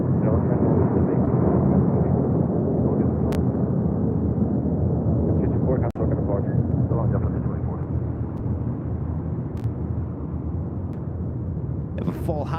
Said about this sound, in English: That was JetBlue Airways Flight 224 heading to JFK and then A321.